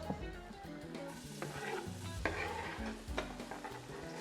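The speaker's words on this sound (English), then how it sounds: "We're going to just cook the onions in now" Onions cook in a glug of olive oil in a pan for a hidden-veg spaghetti bolognese. A soft, steady sizzle runs throughout, broken by stirring scrapes and clinks, all at a faint level.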